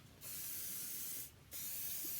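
Two sharp bursts of hairspray from an aerosol can mist over pinned curls, each a steady close hiss of about a second separated by a short pause, with no talking.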